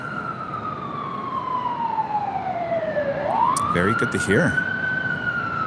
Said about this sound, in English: Wouldn't be a day in Los Angeles without the sirens.